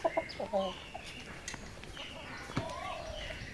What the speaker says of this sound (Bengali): এই যে 3টে মোরগ, এরাই কামড়ে কামড়ে মেরেছে, এখনো কামড়াচ্ছে